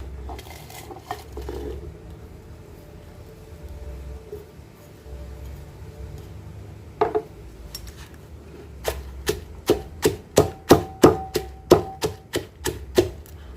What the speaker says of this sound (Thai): เรามาตำพริกแกงก่อนนะคะ